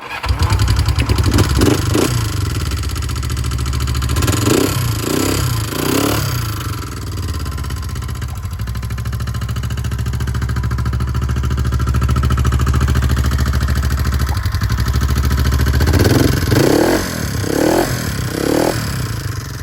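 A 1969 Honda SL350 K0 motorcycle starts cold and idles, a loud, close, steady engine drone with a few brief revving bursts near the beginning and again toward the end.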